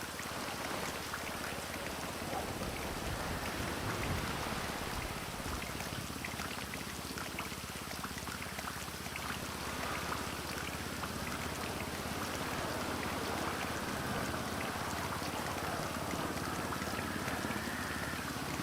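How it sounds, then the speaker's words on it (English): Steady rain falling on water in the GTA Online video game, a continuous soft hiss and patter that stays even and fairly quiet throughout, with no talk. "Listen to the rain on the water."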